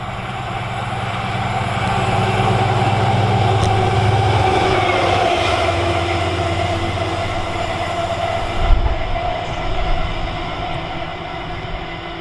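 A Glasgow to Plymouth passenger train passes through Tamworth station on the West Coast Main Line, a loud, steady rumble and rail roar that swells and holds, then fades near the end.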